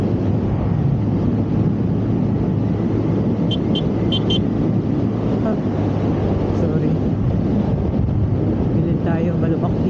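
Riding a TVS Ntorq 125 sport scooter at around 60 km/h, with a steady roar of engine and wind buffeting the mic throughout, loud and close, and a faint voice briefly in the mix.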